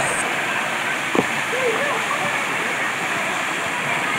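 A steady, broadband roar of falling water at Kallathagiri Falls fills the clip, constant and close, heard from beneath the falling water, with a brief knock partway through.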